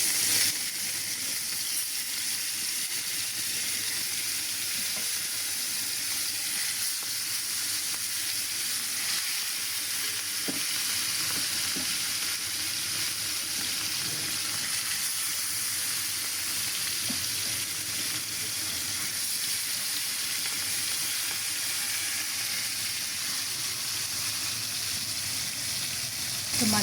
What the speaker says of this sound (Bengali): এবার মাছগুলো ছেড়ে দিচ্ছি